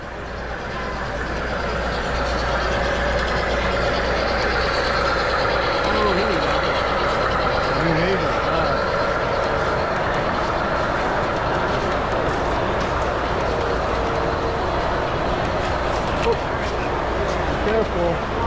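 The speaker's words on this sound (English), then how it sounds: "Here comes the train." A 7.5-inch gauge model park train runs along a G scale layout, a continuous rumbling roll with faint clicking of wheels passing close by, under a steady outdoor crowd murmur.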